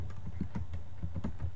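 Rapid, uneven keystrokes tapped on a computer keyboard while entering a delete-messages command, close and fairly soft over a low steady hum.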